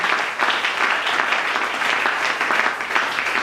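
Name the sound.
congregation applauding loudly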